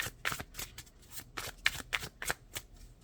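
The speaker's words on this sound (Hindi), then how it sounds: "देखते हैं इस डेक का आखिरी कार्ड क्या आता है।" A tarot card deck is shuffled by hand during a reading: a close, crisp series of quick riffling flicks and soft slaps in an uneven rhythm, heard alone at moderate volume.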